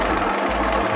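A sewing machine running a short reverse stitch to secure an opening, giving a steady close mechanical hum with a faint rhythmic throb throughout.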